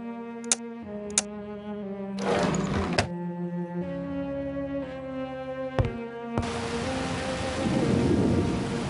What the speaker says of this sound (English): The storm is kicking up something fierce.